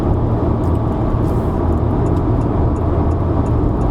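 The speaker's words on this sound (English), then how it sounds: "there is a bit of road noise, mostly from the tires and a little bit from the engine." Road and tyre roar inside a 2021 Honda City RS with 253 Nm of torque, driving up Genting Highlands; a steady, fairly loud low rumble with a faint engine hum underneath, no talking.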